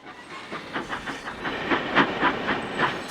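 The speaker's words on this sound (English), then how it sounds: "Bumping railway trucks is not being really useful, Thomas." A steam engine bumping a line of railway trucks in a model railway scene: rhythmic clanking and clicking thuds, around ten in a row, over a steady hiss of steam, fairly close and moderately loud.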